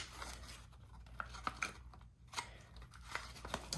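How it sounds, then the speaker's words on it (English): Packaging being torn open during an unboxing, a faint series of scratchy rips and crinkles with small sharp ticks, close and quiet over a low background hum. "it's going to rip the package"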